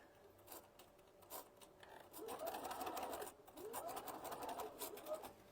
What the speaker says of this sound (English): We're back stitching again.